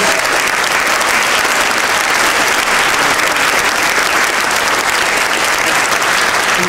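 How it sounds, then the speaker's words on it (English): Thunderous, sustained applause from a large crowd at a 2007 Hall of Fame ceremony honoring the nominees, dense and steady without a break. "Let's have a big round of applause for all the nominees."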